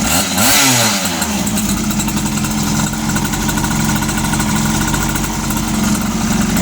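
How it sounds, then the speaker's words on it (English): A motorized bicycle's small engine idles steadily up close, with a loud, even buzzing putter and a brief rev at the start. "It literally just sits here and idles. It runs so good."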